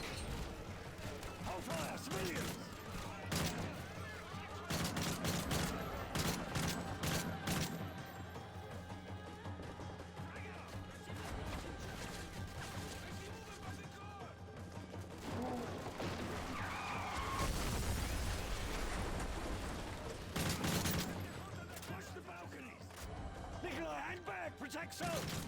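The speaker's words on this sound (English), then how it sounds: "reused AK sound effects from the previous game" AK rifle gunfire sound effects in a video game, dense bursts of shots and crashes running continuously under a talking voice, loud and busy throughout.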